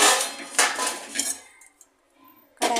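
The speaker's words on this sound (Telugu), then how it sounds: "కడాయి పెట్టుకోవాలి." A metal kadai is set down on the stove with several loud, close clanks and scrapes, separated by short quiet gaps, and a final bang at the end.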